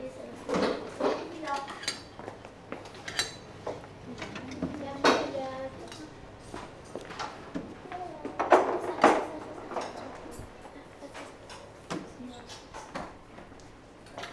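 Plates and cutlery clinking at close range as food is served at a French school gathering, with irregular clatters and clinks scattered throughout under ongoing chatter and voices.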